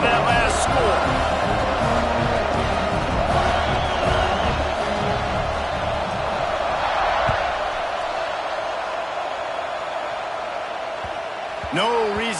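A stadium crowd buzzes in an NCAA football video game after a touchdown, a dense steady roar that fills the whole stretch at constant loudness, with a commentator talking over it and a faint whoop near the end.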